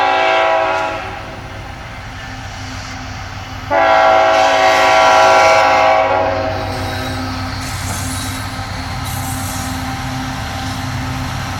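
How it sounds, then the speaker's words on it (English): A freight train led by an SD40-2 locomotive passes near a grade crossing: loud steady rumble of rolling cars, a swelling horn blast mid-way, then continuing wheel and engine noise. "another train had popped up out of nowhere"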